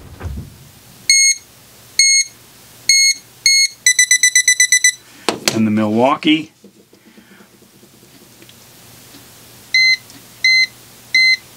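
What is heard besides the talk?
non-contact voltage detector beeping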